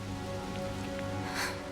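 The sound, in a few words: rain falling, from the video game Diablo IV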